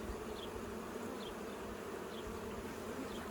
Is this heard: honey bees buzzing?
yes